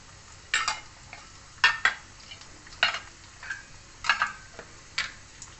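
Urad dal, coriander seeds and cumin sizzle quietly in a pan while a spoon clinks and scrapes against the metal at irregular intervals, with soft frying hiss in between.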